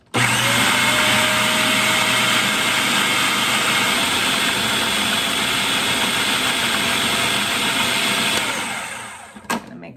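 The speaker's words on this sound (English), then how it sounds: "Let's blend that up" A countertop blender whirs steadily for about nine seconds, loud and close, blending an avocado chocolate mousse with leftover whipping cream, then cuts off abruptly with a brief clatter at the end.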